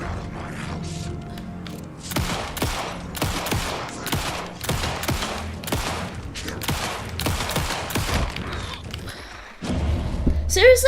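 Repeated gunshots in the video game Alan Wake 2 on Nightmare difficulty, a steady run of sharp cracks with mechanical clicks between them and a voice talking over the shooting.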